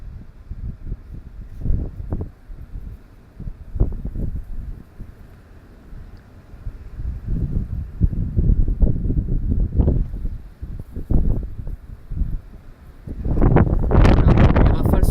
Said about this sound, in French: les rafales sont fortes quand même